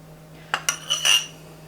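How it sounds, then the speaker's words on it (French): A knife clinks and scrapes across ciabatta bread while spreading a butter mixture, giving a few short metallic taps followed by a longer scraping stroke, close and fairly clear over a steady low hum. "on va venir tartiner nos ciabatta avec ce mélange"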